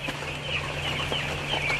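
A crowded, densely stocked poultry house full of chickens gives off a constant murmur of clucking and chirping from many birds over a steady mechanical hum, with no one speaking.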